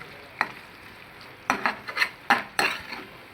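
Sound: stirring masala in cooking pan

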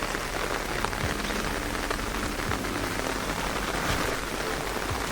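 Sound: rain falling

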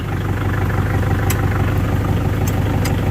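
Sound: vehicle engine starting in video game Free Fire MAX

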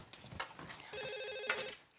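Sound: telephone ringing

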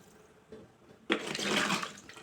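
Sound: water poured into country chicken curry pot

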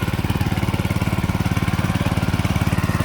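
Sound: walk-behind mini tractor engine running while plowing

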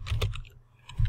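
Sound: typing a prompt on a computer keyboard

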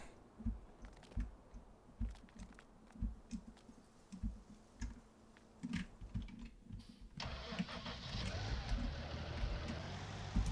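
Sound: Deutz-Fahr tractor engine starting in a farming video game

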